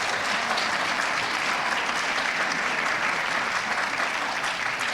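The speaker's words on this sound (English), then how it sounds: "so let's give them a round of applause" Sustained audience applause fills a high school winter sports awards ceremony, steady and dense from start to finish with no speech over it.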